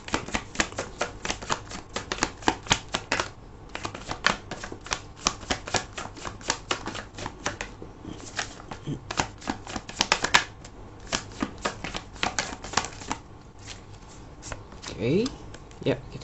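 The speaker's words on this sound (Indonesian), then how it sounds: "aku akan ambil 5 kartu terlebih dahulu ya, untuk melihat apa yang dirasakan kepada kamu" Tarot cards shuffled and five cards drawn in a love reading: rapid, crisp flicking and snapping of cards throughout, steady and close, with a brief voice near the end.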